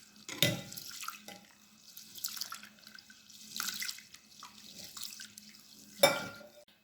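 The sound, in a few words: rice being rubbed and washed in water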